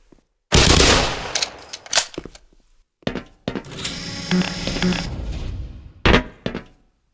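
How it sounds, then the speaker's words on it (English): A 9mm submachine gun with an attached grenade launcher fires in the Black Mesa video game, with loud bursts and single shots separated by short pauses, followed by a longer sustained stretch of mechanical noise. "This is your standard 9mm submachine gun setup with an attached impact grenade launcher."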